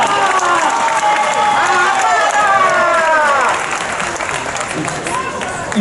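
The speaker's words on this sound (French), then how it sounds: "On les applaudit bien fort." An outdoor crowd at a knights versus barbarians show claps and cheers loudly, with voices over it, then the applause thins out toward the end.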